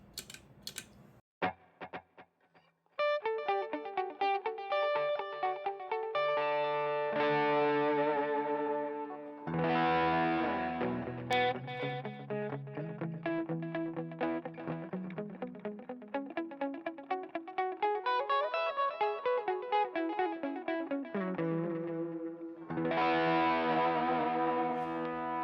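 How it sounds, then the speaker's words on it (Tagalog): A clean electric guitar through the dual delay effect of a Valeton GP-150 pedal plays picked notes and chords, each repeated in cascading echoes that smear into a shimmering wash, rising and falling in pitch before a final strummed chord rings out. "siyempre yung dual delay na paborito ko"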